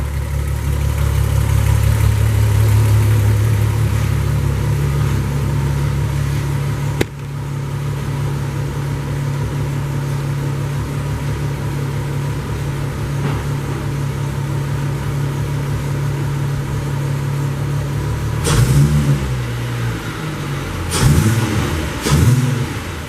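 An MK4 Jetta VR6 with a trimmed cold air intake idles loudly and steadily up close, then near the end the engine is blipped in a few short revs.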